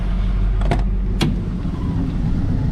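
Replica Chevrolet Blazer engine idling steadily as the truck sets off on a drive, a low constant rumble with two brief clicks or knocks over it, close and fairly loud, with no talk.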